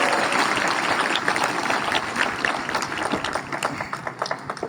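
Students at a Republic Day school event in Malegaon applaud, a dense, steady wash of many hands clapping that carries on for several seconds and eases slightly toward the end.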